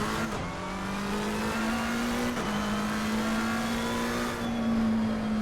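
A McLaren race car in a racing game accelerates out of a corner at Monza, a loud, close engine tone rising steadily as the revs climb, with a brief gearshift dip and faint tire noise.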